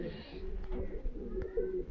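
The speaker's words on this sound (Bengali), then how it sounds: "এই যে আমার খুব পছন্দের এক জোড়া পায়রা" Pigeons coo in a pigeon loft at Habra, a few soft low coos close by over a quiet background.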